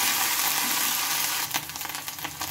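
Ginger, garlic and green chili paste hits a pan of fried onion, a steady close sizzle of frying followed by busier bursts of crackling and stirring.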